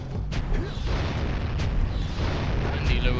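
A boss in the Jak and Daxter video game fires shots around three platforms, producing dense rumbling explosions and booms layered with game noise, continuous over a few seconds.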